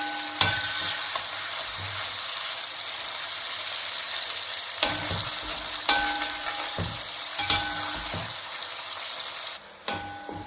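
Fish pieces for Kerala fish pickle frying in hot oil, a continuous bright sizzle broken by several sharp scrapes and clinks as the pieces are stirred and turned over in the pan.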